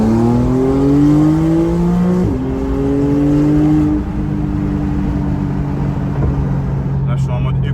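Porsche 991.2 Turbo GTS, 450 hp with a modified Fab Speed exhaust, driving on the road. The engine drones steadily, its pitch climbing then dropping at a gear change, and a voice talks over it.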